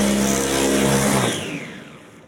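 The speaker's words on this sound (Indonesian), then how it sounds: "Kita kasih minyak sedikit, kita giling sampai halus." A kitchen blender grinds sliced lemongrass with a little oil into a smooth spice paste. It whirs loudly and steadily for just over a second, then winds down and trails off.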